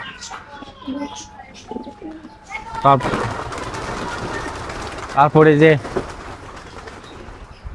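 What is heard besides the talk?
Giribaz pigeons cooing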